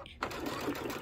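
After a short lull, a sewing machine starts up and runs steadily, stitching near the inside of a seam on thick velveteen for a zippered pouch.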